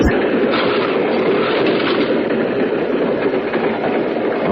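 Radio drama sound effect of a train clattering along the tracks, a loud steady rumble with faint rhythmic clicks running throughout, with no voices over it.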